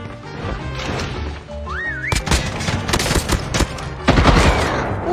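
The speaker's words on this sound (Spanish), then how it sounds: "Que al toque escuchan ahí disparos" Rapid bursts of video game gunfire crackle and pop in dense volleys, mixed with cluttered game sounds and a brief rising electronic tone, growing louder toward the end.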